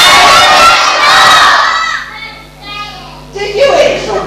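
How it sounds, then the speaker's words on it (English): A crowd of people in a quiet village shouts together in a loud chorus that dips briefly and then surges back. "You mean like a crowd of people shouting, "Hey, little dog!""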